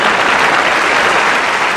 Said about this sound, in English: I got to give a little round of applause for that one.